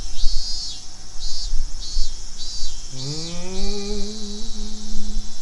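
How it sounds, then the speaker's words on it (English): Cicadas buzz in loud rhythmic pulses on an early afternoon in the visual novel game Higurashi When They Cry. After a few seconds the pulses give way to a sustained rising tone. "Outside, it was still early enough for the cicadas to be crying."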